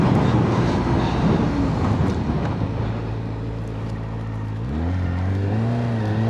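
A 2025 Kawasaki ZX-4RR sport motorcycle's engine runs close and loud, with a steady tone, a dip as the rider slows, then a rising whine as the engine revs back up.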